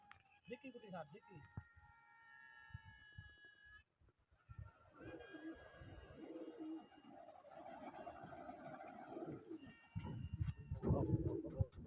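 Pigeons coo softly and repeatedly at a pigeon-flying competition, with people talking nearby.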